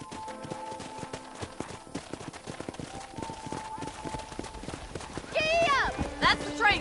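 Horse hooves trot in a steady clip-clop rhythm while riding through a Red Dead Redemption western video game landscape, with a voice or music rising near the end.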